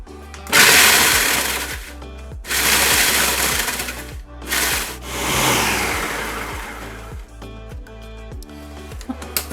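Graham crackers being chopped in a blender for a banana cream pie crust: several loud motor bursts of a few seconds each, separated by short pauses, with rattling crumbs and a steady low hum underneath.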